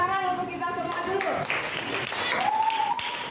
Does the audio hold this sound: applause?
yes